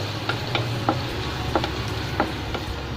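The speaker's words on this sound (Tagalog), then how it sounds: "Okay, I placed in the garlic." Garlic frying in a pan gives a soft continuous sizzle, broken by several sharp ticks and scrapes of a utensil stirring at irregular intervals.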